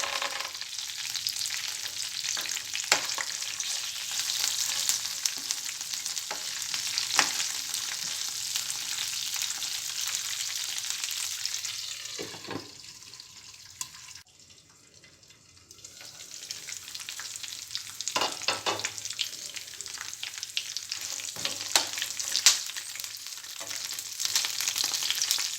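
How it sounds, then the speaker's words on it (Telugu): Peanuts fry in hot tempering oil with mustard seeds, dried red chillies, garlic, green chillies and curry leaves, giving a continuous close sizzle that dips briefly midway before crackling loudly again. "తాలింపులో పల్లీలు కూడా వేసుకోవాలి."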